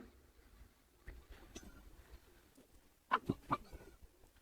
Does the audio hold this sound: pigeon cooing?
yes